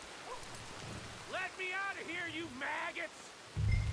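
Steady rain falls in the video game Red Dead Redemption 2, a soft, even hiss that runs throughout while someone talks briefly over it.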